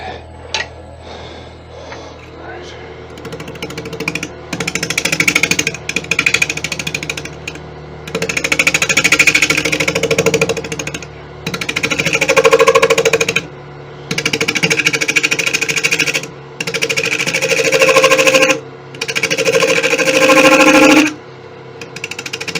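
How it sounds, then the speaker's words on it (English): A wood lathe scraper works the inside of a beech and bubinga yarn bowl in repeated bursts of harsh chattering scraping, a steady motor hum carrying through the pauses between passes. "And again, we're going to scrape the inside."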